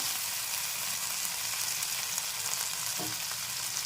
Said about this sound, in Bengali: এখানে হলুদ গুঁড়ো আর লঙ্কা গুঁড়োটা দিয়ে একটু নেড়ে নিলাম